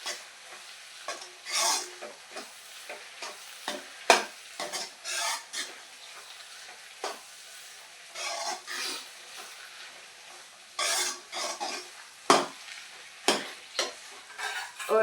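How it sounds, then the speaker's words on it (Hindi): Gajar ka halwa with dry fruits being stirred in a pan, a spoon scraping and clinking in irregular bursts over a soft steady sizzle, fairly close with no talk. "इसको थोड़ी सी देर हम ड्राई फ्रूट डालने के बाद पकाएंगे।"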